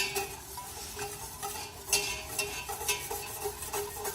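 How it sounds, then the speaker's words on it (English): A spoon stirs and scrapes a thick crab macaroni and cheese sauce in a pot, making soft repeated strokes with light clinks against the metal. Quiet and close, with no voices. "Keep stirring it all together and make sure you don't end up with, you know, lumps in this stuff."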